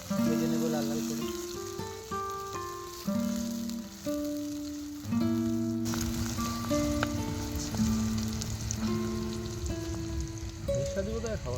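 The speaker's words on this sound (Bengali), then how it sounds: "লঙ্কা কুচিয়ে দিয়ে দেবো, একটু ভালো করে ভেজে নেবো লাল লাল করে।" Chopped chillies frying in a pan for khichdi, a steady soft sizzle running throughout beneath tonal background music, with a faint sharper hiss joining midway.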